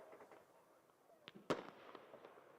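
Daytime fireworks crack nearby at a kart racing event in Le Mans, a scattering of sharp pops and one louder bang over faint background murmur.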